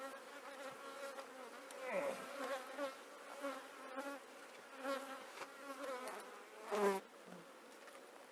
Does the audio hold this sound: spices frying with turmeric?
no